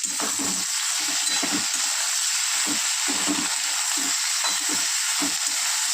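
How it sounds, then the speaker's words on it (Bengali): Winter vegetables salted and fried in a pan for a Bengali chorchori, giving a steady loud sizzle and hiss broken by regular scraping stirs. "সবজিগুলো খুব ভালো করে ভেজে নেব"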